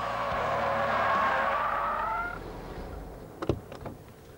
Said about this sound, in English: That upset the balance of the car, pitched the nose forward, and caused the spin.